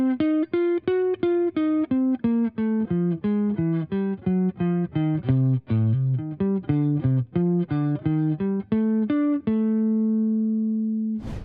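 A slow jazz blues line on a single melodic instrument, clean separate notes moving through the phrase and settling on a sustained minor 6 chord tone at the end, played alone without talk.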